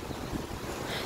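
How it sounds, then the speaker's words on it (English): Steady wind buffets the microphone on a cloudy Hawaii beach, a continuous low rumble and roar with no pauses. "As you can see, it's a bit windy."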